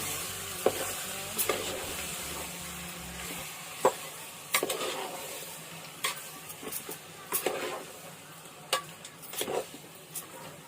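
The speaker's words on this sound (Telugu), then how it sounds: "చికెన్ వేసుకొని బాగా కలుపుకోవాలి మనం." Chicken being stirred and mixed in a cooking pan, giving a steady sizzle of frying with scattered scrapes and clinks of the spoon against the pan, heard up close with no talking.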